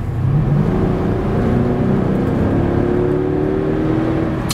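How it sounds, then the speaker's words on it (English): A 2009 Mercedes-Benz SL 550 AMG V8 revs hard under full throttle, its engine note climbing steadily in pitch as the car accelerates, loud, close and continuous throughout with no talking. "Listen to this 8, I'm going to hammer it."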